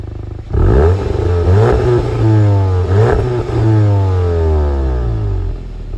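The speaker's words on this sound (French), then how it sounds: "Donc là je vais directement faire des revs." A Cupra Leon with ABT tuning and a rev limiter at 3,800 rpm is revved hard: loud, close engine swells that rise and fall several times in a row, with no talking over them.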